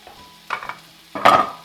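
Tomato drops into a hot pan with fried onion and garlic, setting off two loud bursts of sizzling and stirring, the second stronger, over a quiet background.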